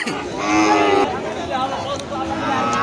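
A cow lets out a long, loud, drawn-out moo nearby at a cattle market near the border in Joypurhat, followed by the murmur of voices and livestock noise in a busy open space.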